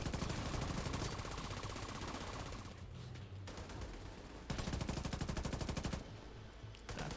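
A heavy gunner boss in The Division 2 on hardcore mode sprays sustained machine-gun fire in long rapid bursts, loud and dense, with a couple of brief lulls between volleys and no talking.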